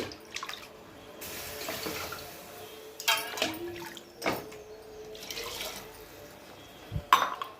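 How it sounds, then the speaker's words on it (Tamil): Water pours and splashes into a cooking pot in intermittent bursts, with a few drips and clinks from the pot or a utensil between them; no one speaks. "இப்போ தண்ணி சேர்த்துட்டேன்"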